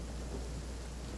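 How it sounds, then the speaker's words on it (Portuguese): Rain and a low thunder rumble in the Genshin Impact video game, a faint, steady wash of rainfall with no voices over it. "Olha aí, tá chovendo aqui, mano."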